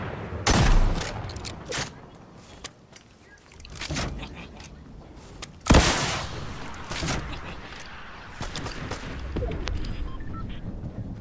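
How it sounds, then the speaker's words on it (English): Gunfire in a Fortnite match, several sharp bursts and shots spread across the stretch, some close and loud, others further back, with game noise running between them. "There was just shots behind us."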